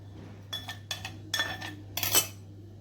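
Fried or roasted peanuts tipped into a mixer jar, giving four short bursts of rattling, clinking clatter against the jar over a quiet steady hum.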